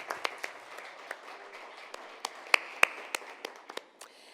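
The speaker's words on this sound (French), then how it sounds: "une bonne main d'applaudissement pour toutes ces interventions" Scattered, faint claps from a small audience at a forum on valuing diversity and fighting discrimination, with sparse individual hand claps over a quiet room rather than a full ovation.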